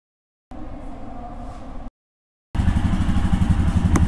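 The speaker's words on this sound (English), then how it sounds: "here's my bike, Royal Enfield Himalayan." A Royal Enfield Himalayan motorcycle engine runs in two bursts separated by silence, with a steady low rumble first and then a louder, fuller close-up idle thrum.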